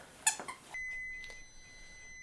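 A rice cooker finishing its cycle gives a single sustained electronic beep, clear but fairly quiet in a kitchen, following a brief sharp clatter.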